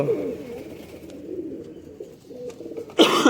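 Pigeons of a high-flying tumbler breed, kept by a fancier, coo softly and steadily at close range, and a sharp burst of louder noise breaks in near the end.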